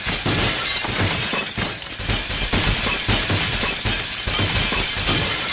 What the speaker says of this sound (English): And through the glass. Break.